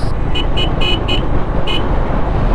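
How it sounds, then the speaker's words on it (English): Vehicle horns toot in a rapid series of about five short beeps on a busy Indian highway, over loud, constant roaring traffic and wind noise. "People only respond to honking."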